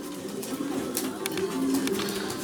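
Soft racing pigeon cooing repeats over a steady noisy background, fairly close, with faint fluttering and rustling throughout, as birds return to the loft after a marathon race.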